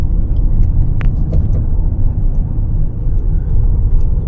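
A car drives across a sea bridge toward Bet Dwarka in Gujarat, a loud steady road rumble and engine drone heard from inside the vehicle, with a few faint clicks and no speech.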